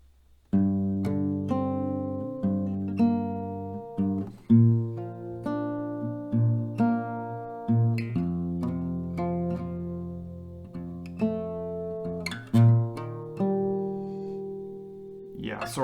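An acoustic guitar slowly plays the intro of a song, with plucked notes and chords ringing out one after another in an unhurried, clear sequence, alone and close.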